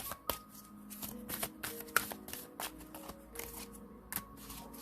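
Cards pulled and shuffled from an oracle deck, producing close, crisp papery flicks and soft taps in an irregular rhythm, with faint background tones and no talk.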